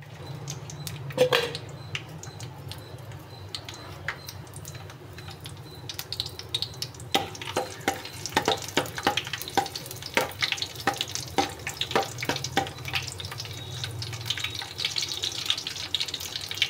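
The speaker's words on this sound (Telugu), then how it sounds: "ఇప్పుడు ఆయిల్ హీట్ ఎక్కాక వెల్లుల్లి రెమ్మలు వేసుకుందామండి." Garlic cloves fry in hot oil for a shark curry, a soft continuous sizzle with a rising crackle and frequent clinks and scrapes of a utensil against the pan, fairly quiet and close.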